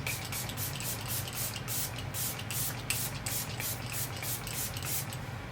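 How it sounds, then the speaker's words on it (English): Revolution Super Fix Super Hold Misting Spray, a makeup setting spray, fired in a rapid series of about a dozen short, close pumping hisses in an even rhythm. "We just set our face with the Revolution Super Fix Super Hold Misting Spray"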